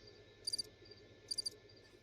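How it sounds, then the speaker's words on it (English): Cicadas or crickets trilling faintly at night, two short bright chirp bursts about a second apart over a steady low insect drone. "That's cicadas."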